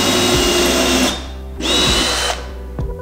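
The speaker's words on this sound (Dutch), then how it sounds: "Mooi op het lijntje, mooi gaatje boren." A power drill boring holes during a construction job, two loud whining bursts of about a second each separated by a short pause, close to the microphone, with no talking.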